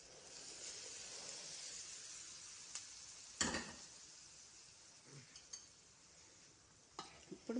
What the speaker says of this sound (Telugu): వేడి వేడి ఆయిల్,